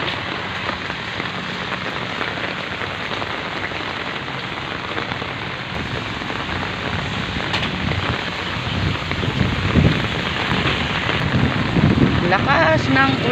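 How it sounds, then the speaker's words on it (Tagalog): Heavy rain pours steadily onto surfaces while wind gusts through a typhoon, a dense, loud, unbroken roar that swells slightly toward the end, with a few faint voices under it. "Lakas ng ulan. Malakas ang ulan. Pati hangin."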